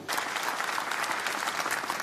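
Sustained applause from a large audience at the COP23 climate conference presidency handover, steady dense clapping filling the whole moment at close range.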